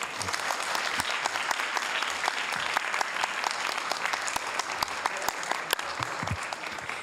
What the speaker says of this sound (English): let's give a big round of applause for our library